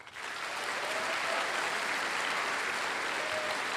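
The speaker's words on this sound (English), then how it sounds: "Please join me in a round of applause." Steady audience applause fills a college commencement ceremony at North Idaho College, a dense, even wash of clapping that swells in quickly and holds at a moderate, slightly distant level throughout.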